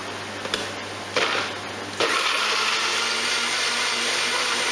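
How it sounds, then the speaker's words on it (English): A blender grinds Scotch bonnet peppers, chili pepper and ginger juice, starting in short bursts before settling into a steady, loud, continuous whir. "And then blend."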